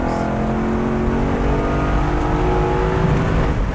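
A 1972 Ford Bronco engine revs hard up close, a loud, rising roar that climbs steadily in pitch through the short burst.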